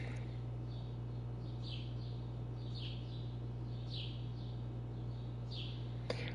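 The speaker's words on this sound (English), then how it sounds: "but then you hear the birds chirp" Game birds chirp in brief, repeated calls at a moderate distance over a steady low hum, with no music or other effects.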